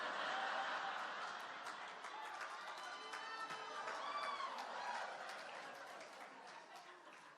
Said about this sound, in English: You will stop cheering for her in a minute.